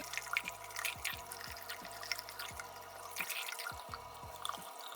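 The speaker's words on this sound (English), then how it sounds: "I am going to use warm water, and I will begin rinsing out the gel." Warm tap water rinsing gel out of a fashion doll's hair, a faint steady trickle with scattered drips and splashes, quiet and close, no speech.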